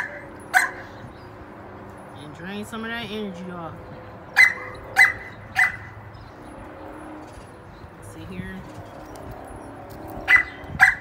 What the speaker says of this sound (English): That's all them two do is bark.